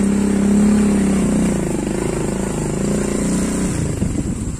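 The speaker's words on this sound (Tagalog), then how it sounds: "Yung mga motor." Motorcycles pass close by on a road near Mayon Volcano in the Philippines, a loud, continuous engine roar shifting in pitch as they go by.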